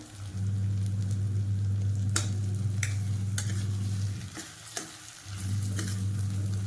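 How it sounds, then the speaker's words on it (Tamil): Eggplant fries in a pan with spices while kalari rice is being prepared. A steady sizzle and hum is broken by several sharp spoon scrapes and clicks from stirring, with a brief lull near the end. "இப்போ இதில் கத்திரிக்காய் வந்து சேர்த்துக்கிறேன்"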